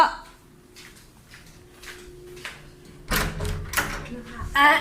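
A heavy door swings and closes with a couple of loud thuds and a rattle near the end, following a stretch of quiet room tone and indistinct talk indoors.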